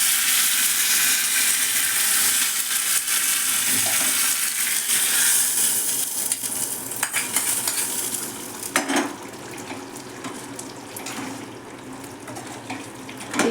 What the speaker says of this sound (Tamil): கொஞ்சம் எண்ணெய் ஊற்றி சோம்பு போட்டிருக்கிறேன்